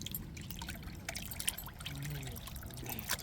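Goat intestines are dropped into hot water while a tripe curry is being cooked, giving soft trickling and sloshing water sounds, fairly quiet and unsteady, with no talk over them.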